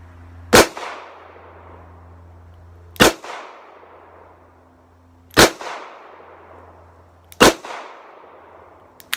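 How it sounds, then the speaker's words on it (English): Four loud, sharp cracks from a Charter Arms Bulldog .44 Special revolver, spaced about two seconds apart, each ringing out briefly before fading into quiet outdoor air. "44 Special, my first shot."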